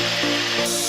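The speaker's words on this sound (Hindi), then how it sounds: "आइए कोला का एक कैन लेंगे और उसके बगल में पूरे पावर के साथ ड्रायर लगाएंगे।" A hair dryer runs at full power beside a cola can, giving a loud, steady rushing blast of air with a faint electric hum underneath and no voices.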